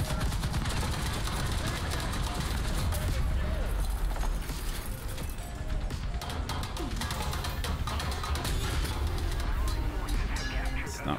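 Dense, continuous gunfire and cannon blasts in the War Thunder tank battle game, loud and chaotic with overlapping shots and impacts throughout, with a voice speaking over the combat.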